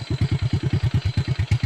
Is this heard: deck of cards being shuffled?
no